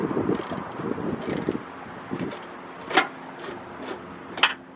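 Ratchet wrench loosening a headlight bolt on a 2008 Cadillac SRX, a series of close metallic clicking pulls, early ones denser with a low rumble behind, later ones sharper and spaced apart, no talking.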